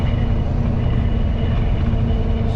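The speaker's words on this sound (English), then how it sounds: "I think it's that tractor making that noise" A tractor's engine drones steadily close by, a dense low rumble that holds at an even level for the whole stretch with no break and no voices.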